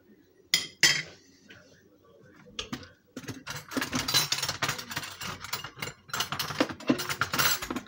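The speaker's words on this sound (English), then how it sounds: "Get a fork in a second to whisk this." A fork whisking a chickpea tofu ricotta mixture in a bowl: a few isolated clinks, then a rapid, continuous metallic rattling and scraping against the bowl, close and fairly loud, with no talking.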